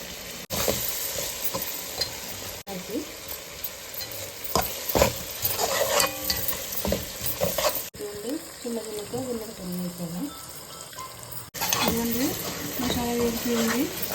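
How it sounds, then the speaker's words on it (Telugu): Coriander sizzles and fries in a pan of paste for prawn biryani while a spoon scrapes and stirs it in bursts, with a voice talking over the cooking and a faint run of water partway through. "ఇదంతా పచ్చివాసన పోయేదాకా ఫ్రై చేసుకుందాం"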